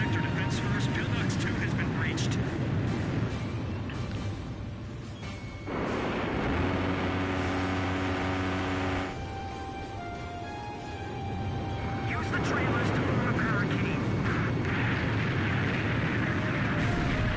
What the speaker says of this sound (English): Multiple enemy aircraft overhead. They're coming this way.